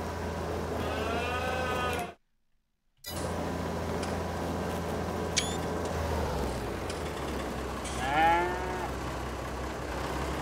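Cattle in the Farming Simulator 22 game moo several times over a steady low engine-like drone, with bovine calls rising and falling near the start and again toward the end, interrupted by a brief full silence.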